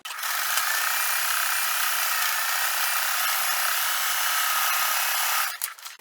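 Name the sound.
sewing machine top stitching a quilt block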